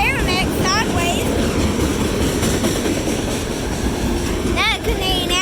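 Three-engine autorack freight train rolling past close by, a loud continuous rumble and clatter of cars with high wheel squeals and screeches breaking through at times.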